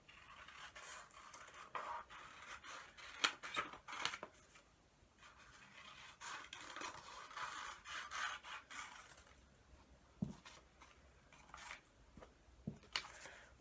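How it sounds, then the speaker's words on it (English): Scissors snip leaf shapes out of card for pumpkin decorations, a run of close, fairly quiet crisp cuts and scrapes with short pauses between strokes, no talking. "I'm going to cut some really pretty leaf shapes"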